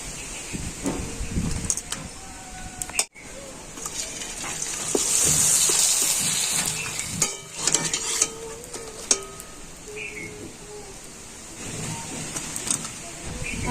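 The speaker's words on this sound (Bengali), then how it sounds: "এইভাবে আমি পাঁপড়গুলো ভেজে নেবো" Raw mango papad frying in hot oil, a steady sizzle and hiss running throughout with scattered clatter and scraping, loud and close, swelling in the middle of the clip.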